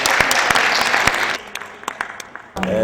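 Brief burst of audience clapping at a conference that fades after a moment, leaving scattered isolated claps before a voice begins speaking.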